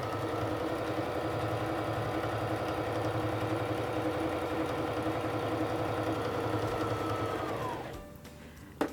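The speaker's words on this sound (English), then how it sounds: "place it under the presser foot, lower the presser foot, and press on the foot control to start sewing." Singer Fashion Mate 3342 sewing machine stitching fabric, a steady, close motor drone with a fast needle rhythm that holds for about eight seconds before winding down and stopping.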